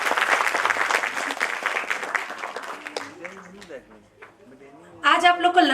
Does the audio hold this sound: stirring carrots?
no